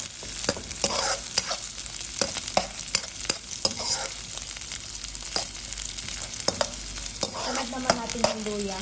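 Garlic and onion sauté in oil in a pan for chicken adobo, sizzling loudly and continuously. Frequent sharp spatula scrapes and taps stir through the frying.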